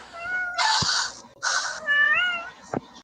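A pet cat meows twice up close, two loud drawn-out cries with a short gap between them, followed by a small chirp, with no talking.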